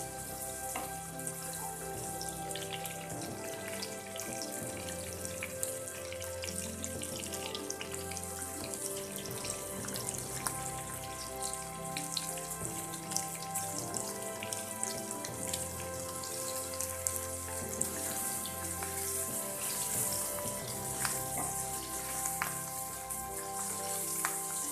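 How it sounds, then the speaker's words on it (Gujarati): Stuffed gunda frying in oil in a pan, a faint steady sizzle with fine crackles and pops running unbroken throughout. "ગુંદાને આપણે થોડા સોફ્ટ થાય ત્યાં સુધી આ રીતે તેલમાં ચડવા દઈએ."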